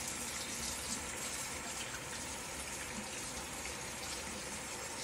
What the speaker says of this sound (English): Sorry, I have to wash my hands.